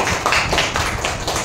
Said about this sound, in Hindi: ओ वेरी गुड, तालियां हो जाए इसके लिए